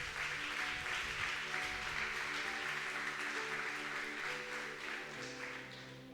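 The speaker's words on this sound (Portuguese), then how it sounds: "Você pode aplaudir bem forte ao Senhor." A church congregation claps together, a sustained wash of applause heard somewhat faint and distant, with a low tonal drone of instruments underneath that gradually fades.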